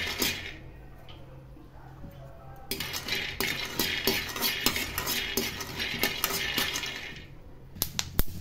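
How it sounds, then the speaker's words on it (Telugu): Peanuts roast in a pan for tomato chutney, stirred with a metal spoon that scrapes and clatters against the pan. The rattling grows denser and louder midway, ends with a few sharp knocks, and no one talks. "పైగా పల్లీలు ఫస్ట్ వేయించుదాము"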